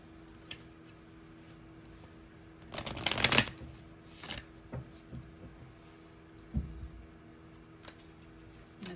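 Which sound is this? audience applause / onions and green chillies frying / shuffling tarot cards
shuffling tarot cards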